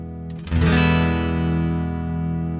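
A Line 6 Variax Acoustic 700 modelling guitar in open E tuning, one full strum rings out alone after a brief silence and sustains with a slow, even decay, picked up partly through a room microphone.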